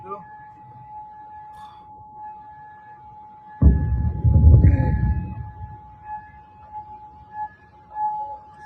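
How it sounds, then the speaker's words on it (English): An air raid siren sounds over Kuwait, a steady tone running throughout beneath a louder burst of low rumbling noise midway, with faint voices in the background. "that beeping noise is actually the sirens going out"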